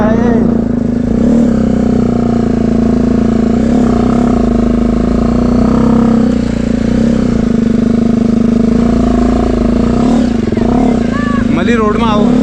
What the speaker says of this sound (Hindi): बाइक केवल फर्स्ट गियर में चलती है। चढ़ाई भी है और ख़तरनाक रास्ता भी है